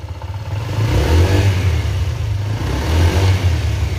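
Honda Vario 160 scooter engine revving up and down twice in close, loud surges of mid-pitched engine tone, the throttle blipped hard with a raspy exhaust note and no talking.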